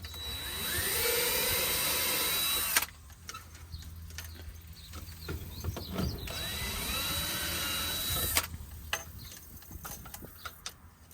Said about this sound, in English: We're going to drill it right there on the top of that pipe.